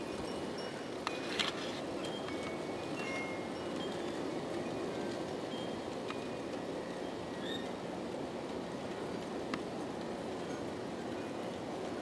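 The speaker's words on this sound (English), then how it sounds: "And there you can see the train is now along the fence line" An Aristo-Craft Mallet model train with double drivers rolls along a stainless steel garden track by a fence, a steady soft rumbling wash with faint metallic squeaks and ticks, fairly distant.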